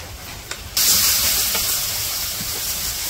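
Native shrimp hitting a hot wok of onions and green chillies in a village kitchen set off a sudden loud, steady hiss of sizzling that starts abruptly and holds strong to the end, with no talking.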